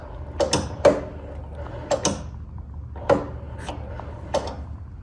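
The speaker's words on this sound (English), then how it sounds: "See the brake pedal working." A brake pedal on a 1964 VW Beetle chassis is pressed repeatedly, giving close creaks and clunky metallic knocks in irregular pairs, each followed by a short squeak.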